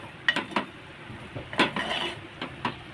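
Kasuri methi is stirred and sautéed in a pan for paneer bhurji, heard as a few scattered close scrapes and clinks of a spoon against the pan over a faint, low sizzle.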